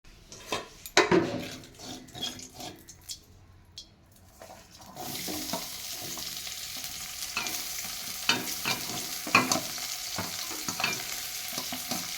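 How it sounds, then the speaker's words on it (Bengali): Potatoes fry in oil in a pan for a Bengali potol and prawn dish, starting with clinks and clatter of pieces being dropped in before a loud, steady sizzle takes over, with occasional utensil knocks and no voices. "পটলগুলো ভেজে তুলে নিয়েছি আলুগুলো ভেজে তুলে নেব"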